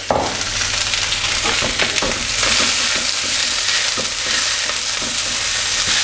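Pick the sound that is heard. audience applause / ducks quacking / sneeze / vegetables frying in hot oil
vegetables frying in hot oil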